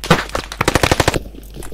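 MG42 machine gun fire in the Post Scriptum war game, a loud close burst of rapid rounds that rattles steadily for about a second and then cuts off.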